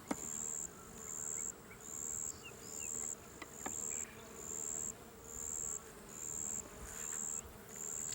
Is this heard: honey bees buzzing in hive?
yes